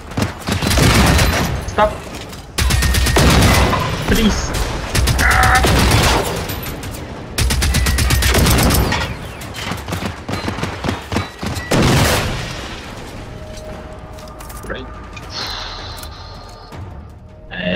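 An assault rifle in Generation Zero fires long sustained automatic bursts, loud and close, with short pauses between strings; a person shouts briefly, and the gunfire fades to quieter ambience near the end.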